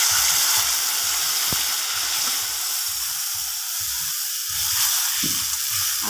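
Onion browning with salt and spices in a pan, a loud, steady hissing sizzle close by, with rhythmic low scraping pulses from stirring throughout.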